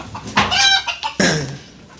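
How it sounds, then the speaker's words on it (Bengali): Desi chickens cluck loudly and close by inside a hen house, two or three sharp bursts of calls in quick succession. "এই যে দেশি মুরগির ঘর আমার এই দেশি মুরগির ঘরের ভিতরে আসলাম"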